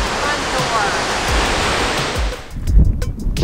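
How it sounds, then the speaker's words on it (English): Roaring waterfall in Alaska: a loud, steady, broadband rush of falling water close by that drops away sharply near the end, leaving quieter background noise and faint bumps. "That's a waterfall."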